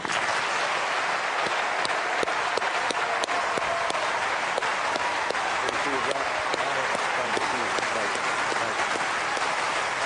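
Audience at the Obama–McCain presidential debate in Mississippi applauds as the two senators walk out, a dense, steady wash of clapping lasting the whole stretch with scattered sharper claps.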